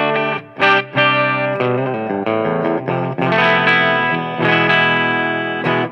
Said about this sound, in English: So that's the hot rodded voicing on the bridge pickup.